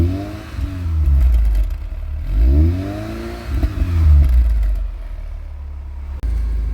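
A 2003 Mitsubishi Outlander with a four-cylinder engine and a 64mm sports exhaust rear assembly revs up loudly several times, each rise and fall in pitch clearly audible, close by and with no talking.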